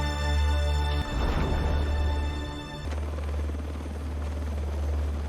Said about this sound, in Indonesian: Ovi berhasil diselamatkan dan naik helikopter bersama Nick dan rekan-rekannya.